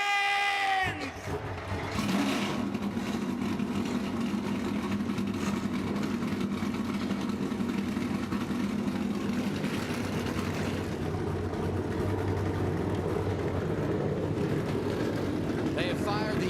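Race car engines firing up at Dover's Monster Mile, a loud burst that settles into a sustained rumbling roar with crowd noise, as an announcer talks over the start.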